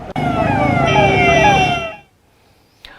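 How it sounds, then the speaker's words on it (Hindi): An ambulance carrying a COVID patient to an airport sounds a loud, close wailing siren with sweeping tones for about two seconds before it cuts off abruptly, leaving near silence. "ये वो एम्बुलेंस है जिसकी मदद से कोरोना पेशेंट को एयरपोर्ट ले जाया गया"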